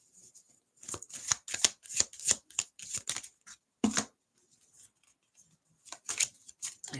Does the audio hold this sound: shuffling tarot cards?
yes